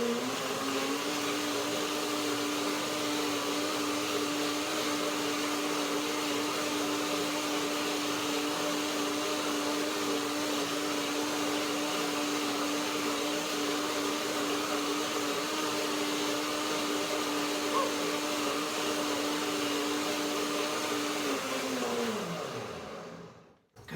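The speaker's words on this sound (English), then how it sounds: "Blender dance one more time." A blender whirs steadily as it blends a ginger lemon cashew cream dressing, a loud, even motor drone that holds for over twenty seconds before winding down and stopping abruptly.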